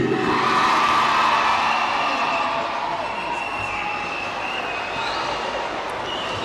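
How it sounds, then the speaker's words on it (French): Audience at the Épelle-moi 2016 spelling bee final standing to applaud and cheer for the sponsor, a loud, sustained wash of clapping and crowd noise that gradually eases. "On se lève, on applaudit le parrain Soumaïla Cissé."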